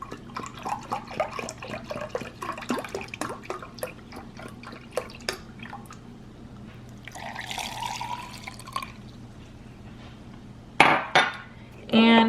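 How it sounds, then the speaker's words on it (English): Tazo Chai concentrate is poured into a blender, a run of small close drips and splashes, then a steadier liquid stream near the end, with a brief clatter and no talk. "Then I'm going to add a cup of the Tazo Chai concentrate."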